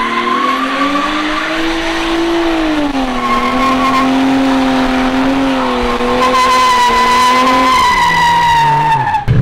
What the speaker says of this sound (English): So we're about to do donuts in Ireland, in the rain, in a JDM car.